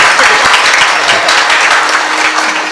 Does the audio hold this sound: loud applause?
yes